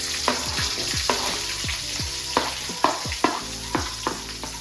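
Chopped onion sizzles in hot oil in a home kitchen while sautéing toward light brown for sambar. A spoon gives several sharp scraping stirs against the pan over the continuous frying hiss, and no one speaks.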